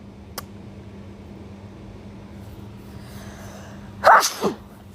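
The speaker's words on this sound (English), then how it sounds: "I did indeed have to sneeze." A single sharp sneeze bursts out near the end, after a short inhale, over a steady low hum of background noise.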